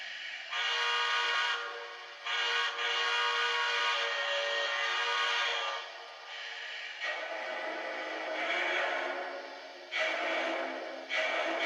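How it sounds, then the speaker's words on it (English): A loud, sustained whistle from a Lionel Vision Line 2-10-10-2 model steam locomotive blows in long harmonic blasts with brief breaks, its pitch shifting between chime tones, heard up close with no talking. "That's the iconic 2-10-10-2 whistle."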